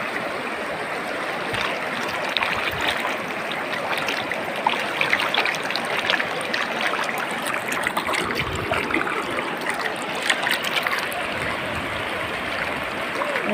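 Isap River in Bongabong, Mindoro, flowing over large rocks of many sizes, a steady loud rushing and trickling of water throughout, with no voices.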